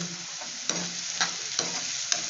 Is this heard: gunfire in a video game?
no